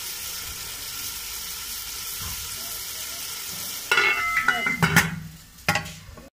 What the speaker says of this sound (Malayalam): തക്കാളി ഒന്ന് വേകുന്നത് വരെ വെയിറ്റ്